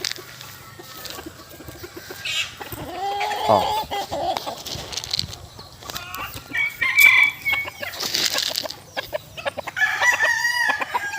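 Chickens cluck and a rooster crows nearby at feeding time, with scattered squawks and farmyard bustle; a voice briefly exclaims.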